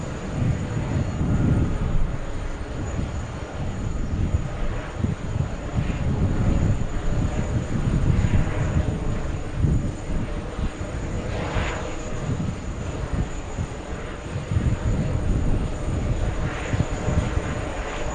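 A Swiss Air airliner, Flight 14 inbound from Zurich, arrives at JFK airport with a loud, continuous engine rumble that swells and eases in slow waves throughout, with no voices over it.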